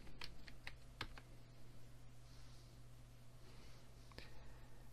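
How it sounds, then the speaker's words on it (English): Typing on a computer keyboard while entering a location into an ad audience setting, heard as soft, close key clicks in short irregular bursts over a steady low hum, with no talk. "So let's just type that in."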